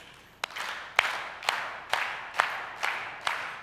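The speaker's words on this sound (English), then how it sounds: "Now clap in rhythm." An audience claps together in a slow, steady rhythm, eight sharp unison claps roughly half a second apart, each with a short roomy tail.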